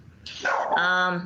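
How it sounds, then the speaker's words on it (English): Dogs bark and whimper at home behind a speaker on a county board meeting call, a short yelping burst following a brief spoken word. "excuse my dogs barking in the background"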